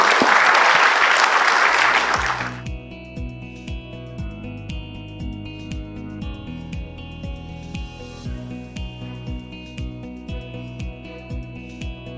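Audience applause for a panel at an investment conference, a loud dense burst for the first two seconds that cuts off sharply, leaving quiet music with a steady beat.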